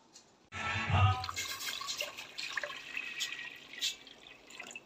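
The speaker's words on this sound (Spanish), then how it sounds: "usando 1 litro de agua que vamos a poner a hervir." A litre of water splashes into a pot for boiling in a home kitchen while making currant syrup, with a burst of pouring followed by softer trickles and drips, fairly quiet and close.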